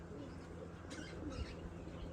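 Pigeons softly cooing in a low, faint murmur against steady background hum, with a brief brighter chirp partway through.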